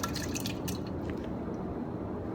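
Water runs steadily from a sink tap through a metering device, a dense, even hiss of flow with faint drips on top, close and continuous without any voices.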